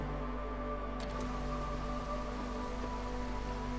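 Steady hailstorm rain from the settlement-building video game Against the Storm, a constant dense patter with faint rumbling beneath and no talk, heard at a moderate level.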